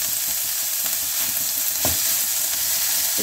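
Boiled, shredded chicken with capsicum frying in a pan, a steady bright crackling sizzle with a brief stirring scrape partway through.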